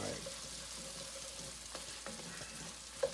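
Food sizzles faintly in a pan while it is stirred around, with a soft continuous frying hiss, a few light scrapes and a small clink near the end.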